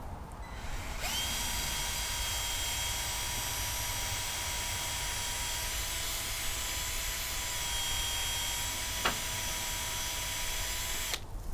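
A power drill bores a pilot hole while walls are framed for a tractor chicken coop, whining at a steady high pitch for about ten seconds, loud and close, with a brief change in tone near the end.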